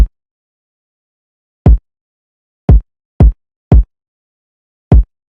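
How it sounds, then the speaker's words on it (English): A kick drum sample from an FL Studio beat hits six times at uneven spacing, each a short punchy thump standing alone against silence. "Here's what that kick sounds like."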